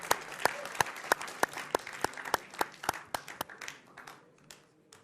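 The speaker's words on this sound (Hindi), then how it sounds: "मोहम्मद फैज खान साहब और शादाब चौहान, तालियों के साथ आप दोनों का बहुत बहुत स्वागत है।" A studio audience at a televised Hindi political debate show claps in a crisp, rhythmic burst of applause that thins out and fades toward the end.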